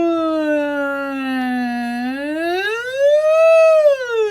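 A human voice imitates a siren with a very high larynx, gliding smoothly down, then sweeping up and back in a clear, close, sustained wail.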